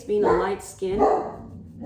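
A pet dog barks twice indoors, loud and close, each bark a sharp yelping burst, with a voice briefly heard speaking in the middle and at the end.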